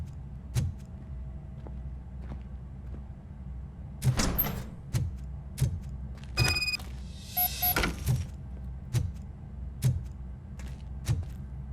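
A door opens in the RoboCop: Rogue City video game, with a mechanical whir and slide in the middle, surrounded by scattered sharp clanks and thuds over a low hum.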